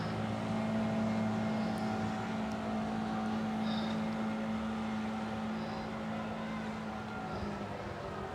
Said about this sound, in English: What you can hear in the background is a lot of boats going up and down the canal, so a bit noisy